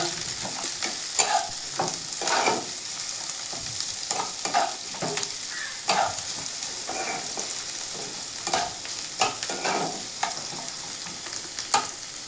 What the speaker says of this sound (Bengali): এবার পেঁয়াজটাকে আমি সামান্য ভেজে নেব।